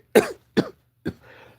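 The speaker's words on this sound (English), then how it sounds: "I haven't coughed all night until now." Three sharp coughs in quick succession, close by, the last trailing into a raspy exhale in a quiet room.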